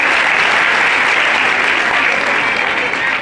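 Loud, dense applause from a crowd at a mini marathon championship event, continuous and steady throughout with no break.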